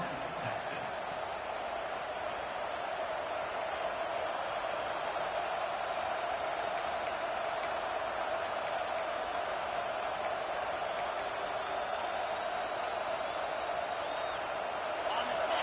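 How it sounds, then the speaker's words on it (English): A large stadium crowd roars at a Texas college football game, a steady, loud wash of cheering and noise that holds constant throughout, with scattered shouts and whistles rising above it. "this crowd is turning it up a notch"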